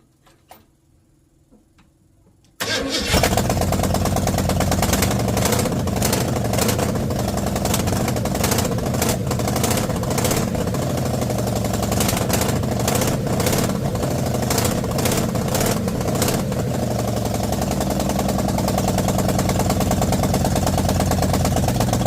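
A 1974 Ford 302 V8 cranks and fires after a quiet moment, then settles into a loud, steady idle with a rhythmic ticking pulse that carries on unbroken to the end.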